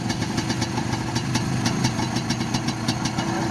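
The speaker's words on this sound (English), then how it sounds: "It's two VSA Rocket 3 engines welded together, making it into a V6." Custom V6 motorcycle engine built from two Triumph Rocket 3 engines, idling nearby, a steady throbbing rumble with regular mechanical pulses and a faint ticking above it.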